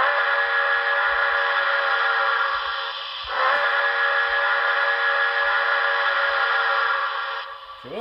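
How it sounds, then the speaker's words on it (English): A model steam locomotive's whistle sounds one loud, steady, sustained blast lasting about eight seconds. It dips briefly partway through before resuming, and there is no talking. "Let's take a listen to the whistle."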